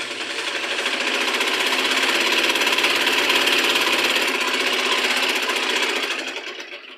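A sewing machine runs steadily, stitching the side joint of a blouse: a dense, even, rapid chatter that holds for about six seconds before easing off near the end, close and with no voices.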